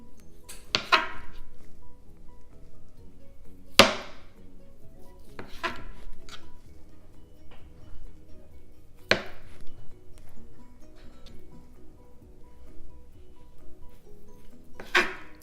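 A knife slices through a block of mozzarella cheese on a cutting board, giving a handful of sharp, separate knocks and scrapes at irregular intervals with quiet pauses between them, close by.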